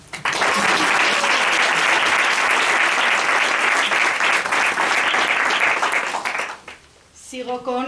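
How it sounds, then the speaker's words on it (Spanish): Audience applause for a speaker at a women-in-science event, loud continuous clapping that swells quickly and fades out near the end, followed by a brief voice. "Un aplauso."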